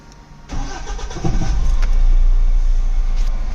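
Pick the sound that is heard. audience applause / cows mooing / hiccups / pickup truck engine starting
pickup truck engine starting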